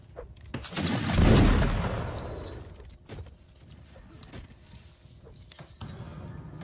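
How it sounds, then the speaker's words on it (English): Volleys of musket fire in a Napoleonic line-battle video game: a big rolling fusillade swells and fades over the first seconds, then scattered single gunshots crack at intervals, with faint voices underneath. "Yeah, just keep firing at the infantry."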